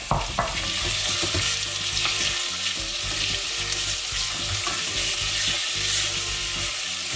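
Chicken browning in a pot for homemade lentil soup, a loud, steady sizzle and crackle of frying close by, with occasional stirring scrapes and no talk.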